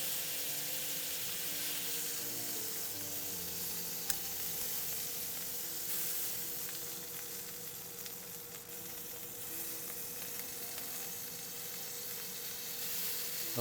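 Flat iron steak sizzles in a pan with butter, a steady and dense frying hiss that holds for the whole stretch, close and even, with no voices over it.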